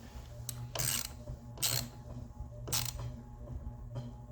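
A hand ratchet clicks in three short bursts while tightening the positive post of a 2014 Hyundai Tucson's battery, each burst crisp and close, with quiet pauses between.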